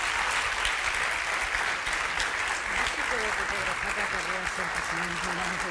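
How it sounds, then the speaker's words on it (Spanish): Studio audience on a television talk show bursts into sustained, dense applause for a guest, steady and loud from start to finish, with a voice talking over it. "Un aplaudiment per la Pilar Urbano, sisplau."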